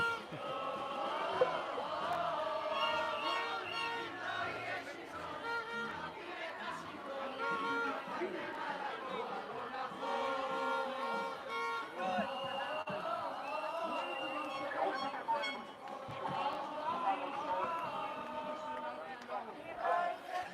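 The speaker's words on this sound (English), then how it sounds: "It's a very loud, a very excited crowd tonight" A dense crowd packed tight on a sidewalk at a nighttime rally for Israeli democracy, many voices overlapping in loud, excited chatter and calls, close and continuous with no quiet gaps.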